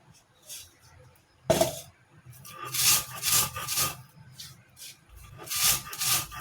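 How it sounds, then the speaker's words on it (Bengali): Half a kilo of puffed rice (muri) being ground into powder, heard as a series of gritty rubbing and scraping bursts with a sharp loud onset, moderately close and repeated in uneven pulses. "এখানে আমি হাফ কেজি মুড়ি গুঁড়ো করে নিচ্ছি"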